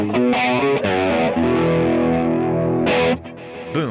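A distorted electric guitar tone on the bridge pickup rings out in sustained, chorus-tinged chords and phrases, loud and close, with a short pause near the end before a final strum.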